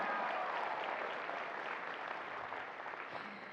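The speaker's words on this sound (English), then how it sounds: "Let's give him a round of applause." Audience applause at a NASCAR Whelen All-American Series awards ceremony, a steady wash of clapping from a large crowd that gradually fades slightly over a few seconds, with no talking over it.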